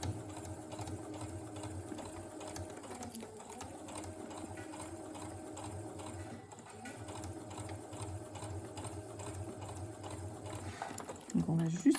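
A sewing machine with a zipper foot stitches along fabric piping, a steady rapid mechanical whirr with fine rhythmic ticking that runs the whole time, and a brief clunk near the end.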